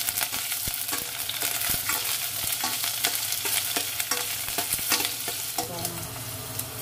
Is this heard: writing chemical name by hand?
no